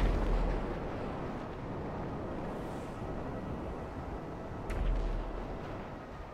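In GTA 5, weapons fire at a low-flying aircraft, heard as a dense, continuous rumble of booming blasts that swells briefly near the end.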